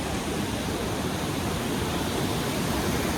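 Hot spring water from the Kheerganga springs in the Parvati Valley flows in a steady, dense rush that fills the whole scene without a break.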